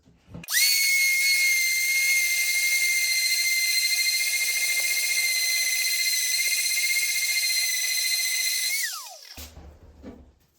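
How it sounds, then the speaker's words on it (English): A power sander removing wood from a DIY guitar neck, spinning up into a high, steady whine that holds loud and constant for about eight seconds before winding down and stopping. "Just to take off most of the wood, I'm gonna use my sander."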